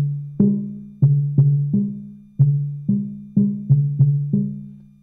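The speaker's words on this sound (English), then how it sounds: "Here's a very large one. It's got two tongues, so it has two sounds" A very large African log drum with two tongues is struck about a dozen times in an irregular rhythm, each hit a warm, resonant, woody tone that rings and decays, alternating between two close pitches, with no talking.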